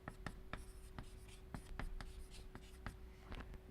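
Chalk or marker tapping and scratching on a board in a lecture hall, a steady series of short strokes and clicks over a low room hum, fairly quiet.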